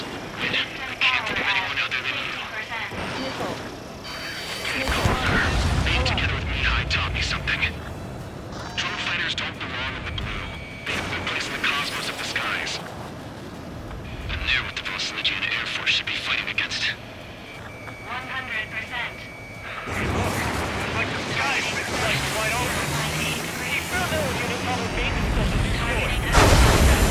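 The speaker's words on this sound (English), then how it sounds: "Keep firing those missiles until you blow him to pieces." Missile launches and explosions during jet dogfighting in Ace Combat 7: Skies Unknown, bursts of whooshing blasts over a constant jet engine roar and music, with game voices talking between them.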